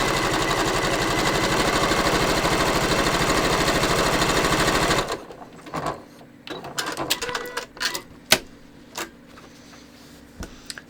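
A sewing machine fitted with a special presser foot stitches a hem, running loud and steady for about five seconds, then stopping, followed by quieter scattered clicks and handling noises.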